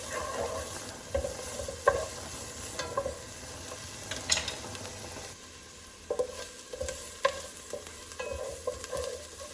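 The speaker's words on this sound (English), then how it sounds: "I'm going to let these onions saute a little bit and get them caramelized" Onions saute and caramelize in a pan, with a continuous soft sizzle punctuated by repeated scraping stirs and light knocks of the utensil, quieting briefly in the middle before stirring resumes.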